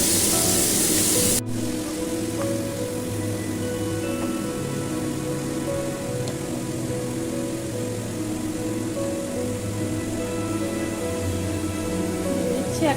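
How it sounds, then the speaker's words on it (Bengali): Paneer pieces shallow-fry in a little oil, giving a steady, even sizzle that holds through the whole stretch after a brief louder burst at the very start. "টুকরোগুলো দিয়ে পনিরগুলো আমি অল্প করে ভেজে নেব"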